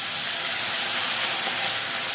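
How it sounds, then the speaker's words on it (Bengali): Sliced onions and green chilies sizzle in hot oil while frying for a stinging catfish curry, giving a steady, loud hiss throughout with no talking. "পেঁয়াজটা একটু ভাজা ভাজা করে নেবো"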